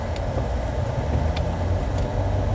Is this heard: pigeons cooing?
no